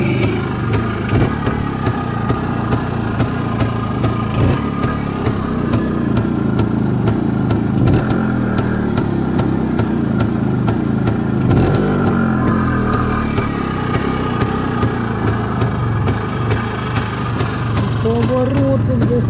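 Motorcycle engine idling unevenly after a cold winter start in -7°C frost, a steady close mechanical rumble running throughout with slight surges, while people talk over it.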